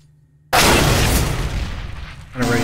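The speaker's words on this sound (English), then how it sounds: "Deploying flashbang." A Counter-Strike: Global Offensive flashbang grenade goes off on the Nuke map during a competitive match: a sudden loud burst after a quiet lead-in, a sustained roaring wash that slowly fades, then a ringing high tone rising at the end.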